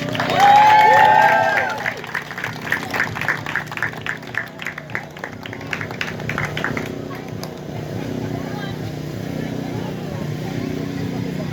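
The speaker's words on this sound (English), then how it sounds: "let's give another round of applause" An audience at a First African Arrival Day commemoration applauds and cheers, with a burst of crowd noise, then rhythmic clapping in the middle that settles into a low, continuous room murmur.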